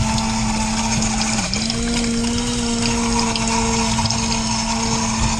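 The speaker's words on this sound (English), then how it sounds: "And we're just going to watch the water" Water cycles through the mixing bowls of an Azkoyen Zensia coffee machine, with a steady pump drone and continuous rushing, gurgling flow that stays loud and close throughout.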